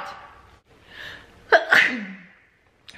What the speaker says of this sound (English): This could take a while if I keep sneezing.